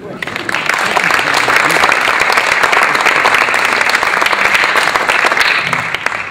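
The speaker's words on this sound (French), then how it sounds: "on peut l'applaudir" An audience at a French talk event bursts into sustained applause, a dense, loud wash of clapping that rises within the first second and holds steady before easing slightly at the end.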